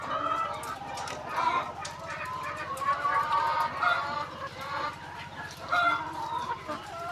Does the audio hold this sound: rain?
no